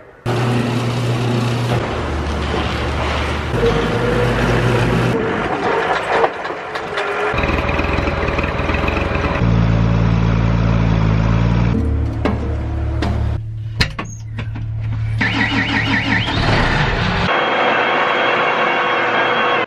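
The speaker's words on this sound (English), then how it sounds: "I'm actually gonna pull the rock picker over here using the skid steer" A skid steer engine runs steadily while it tows a rock picker on a farm, a close, continuous mechanical drone that changes pitch as the machine works, with some clanks and knocks partway through.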